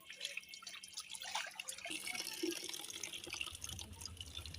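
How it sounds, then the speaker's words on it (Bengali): Pumpkin leaves being washed by hand in water, with running and dripping water and wet splashing that grows fuller and steadier over a few seconds, close and moderately loud, with no talking. "এইভাবে ধুয়ে নিব আমি প্রত্যেকটা পাতাই।"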